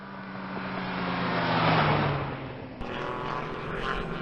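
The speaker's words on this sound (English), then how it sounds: "this is various mixed formula and Indy type cars, and yeah, they're loud" Formula and Indy-type race cars at The Mitty 2019 roar past one after another with loud, rising and fading engine noise and a sharp cut to another car passing.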